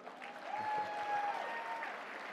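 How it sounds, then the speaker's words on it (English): Applause from the morning audience at the CPAC 2019 conservative conference, a soft, distant wash of clapping that rises slightly and holds briefly. "Give yourselves a round of applause for waking up this early."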